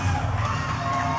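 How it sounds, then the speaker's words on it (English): A dense crowd at a wrestling match roars and cheers continuously, a loud wash of yelling and whooping with no pauses. "Listen to the roar of the crowd in there."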